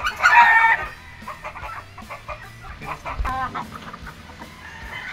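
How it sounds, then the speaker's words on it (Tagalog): An imported-line Harold Brown Grey gamefowl broodcock clucks nearby in a series of short, throaty calls of varying loudness, with some farmyard noise behind. "Imported line to, Harold Brown Gray broodcock."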